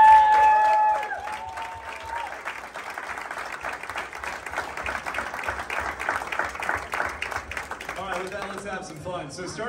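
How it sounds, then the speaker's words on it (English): Audience applause for the enlisted force and Thunderbirds patch wearers of the 2022 US Air Force Air Demonstration Squadron, a sustained loud crowd clapping that follows a spoken introduction and tapers as a voice resumes. "I'd like to give a huge round of applause to our enlisted force and to those who wear the patch for the Thunderbirds"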